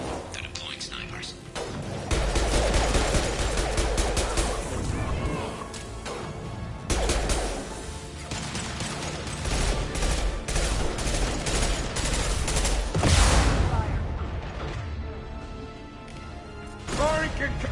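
Sniper fire and a loud battle in the video game Mass Effect 2, with repeated heavy gunshots, crashes and bursts over a dense, continuous din, while voices talk underneath.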